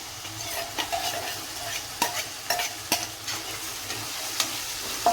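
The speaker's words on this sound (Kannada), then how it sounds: "ಈಗ ಇದರಲ್ಲಿ ನಾವು ಕುದಿಸಿರ್ತಕ್ಕಂಥ ತರಕಾರಿಗಳೆಲ್ಲ ಹಾಕೋಣ" Boiled vegetables are stirred into sizzling fried masala for aloo kurma, with a steady close frying hiss punctuated by repeated scraping knocks of a spoon against the pan.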